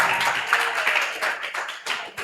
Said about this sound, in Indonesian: Kita beri tepuk tangan untuk memberikan semangat pada Zakial